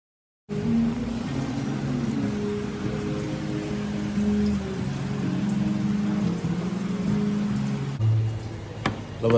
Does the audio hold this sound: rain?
yes